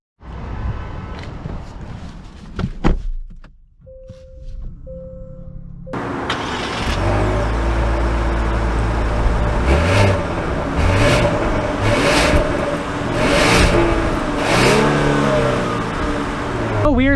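A 2021 Genesis G80 with a 3.5-liter turbocharged engine fires up after a quiet moment, then revs hard and climbs through the gears as the car pulls away, loud and close.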